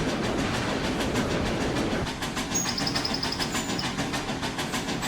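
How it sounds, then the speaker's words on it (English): Locomotives A&WP 290 and BM&R 425 run steadily along the track in Trainz Railroad Simulator 2019, a continuous engine drone with rhythmic wheel clicks and a brief high ringing tone partway through. "The two engines went on."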